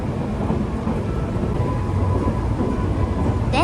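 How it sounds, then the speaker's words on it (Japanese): Nankai Grand Tenku sightseeing train rolling along rails near a depot between Miyukitsuji and Hashimoto stations, a continuous low rumble of wheels and carriage noise heard from inside, steady throughout. "電車はみゆき辻駅と橋本駅の間にある車庫の横を通過しています。"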